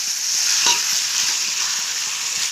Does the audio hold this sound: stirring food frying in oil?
yes